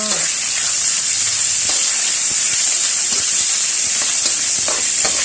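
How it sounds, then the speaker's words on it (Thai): Pork stir-fries in a pan with fried garlic, giving a steady loud sizzle and hiss throughout, with faint scattered clicks of a utensil against the pan and no talk. "ใส่หมูลงไปผัดให้สุกเลยค่ะ"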